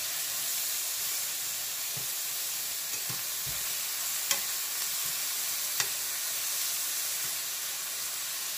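Jerk shrimp sizzling in a pan as they are turned over, a constant bright hiss with a few soft taps and clicks of the utensil.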